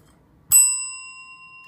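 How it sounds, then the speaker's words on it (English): A single bright strike of a small bell, close and clear, its high ringing tone sustaining and slowly fading over a quiet room. "Ring the bell, Pam."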